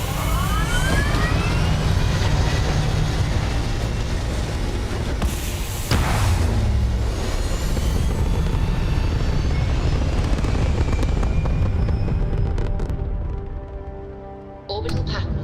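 Starship thrusters in the video game Starfield fire in a loud, continuous, broad roar that holds steady throughout and tapers off near the end.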